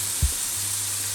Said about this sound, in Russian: Бекончик тут жарится у нас.